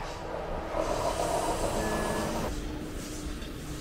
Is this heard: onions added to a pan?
no